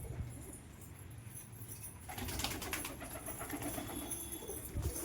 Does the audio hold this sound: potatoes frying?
no